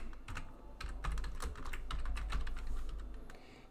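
Fingers type a password on a computer keyboard: quick, close, fairly soft key clicks in an irregular run that lasts the whole clip, with no talking.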